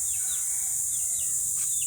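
Chicks and chickens are fed outdoors. A handful of short, thin peeps rise and fall in quick succession over a steady high hiss, with no talk.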